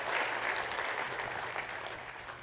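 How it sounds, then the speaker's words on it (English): Audience applause at a tech keynote, a steady wash of clapping that tapers slightly toward the end, with no talk over it. "big round of applause for Lewis."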